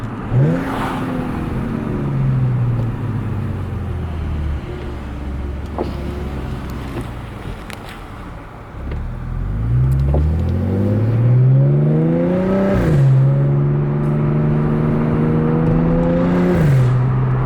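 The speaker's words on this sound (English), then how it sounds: "You guys can hear the downshifts are crisp." An Audi S4 engine revs up and drops through several crisp downshifts, its pitch climbing and falling in repeated sweeps, loud and close from the driver's seat, with no talk over it.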